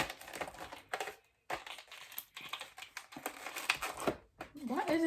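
Plastic packaging of an acrylic nail kit crinkles and rustles in bursts as someone struggles to tear it open up close, with short pauses and a voice speaking near the end.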